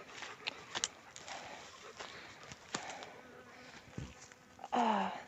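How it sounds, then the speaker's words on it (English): Bees buzz steadily around a flowering fruit tree in a Spanish mountain nature reserve, a continuous outdoor drone with insects passing close and swelling louder near the end. "Alive with bees."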